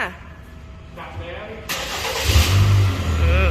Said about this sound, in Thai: สตาร์รถค่ะ